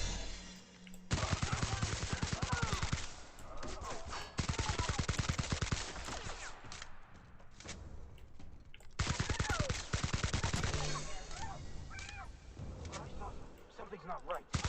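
Rapid automatic gunfire in the sci-fi role-playing shooter The Outer Worlds comes in several long, dense bursts separated by brief lulls, loud and continuous with clattering effects between volleys.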